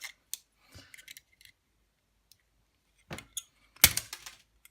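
Leatherman multitool scissors snip through material in a few scattered crisp cuts, then a denser run of sharp clicks near the end, close up with no speech.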